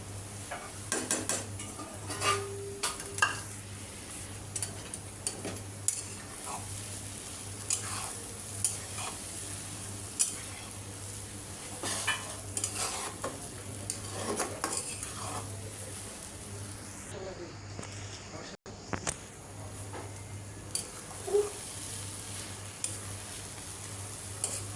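Noodles and vegetables stir-fried with noodle spice mix, a steady close sizzle broken by scraping spatula strokes and light clinks against the pan, with a low hum underneath.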